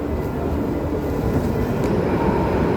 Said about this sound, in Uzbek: metro keldi shu anda